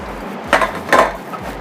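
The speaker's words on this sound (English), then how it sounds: "Give them a light spray." Two short bursts of supermarket cooking spray hit a cupcake tin in a kitchen, quick hissing puffs close by over a low background hum.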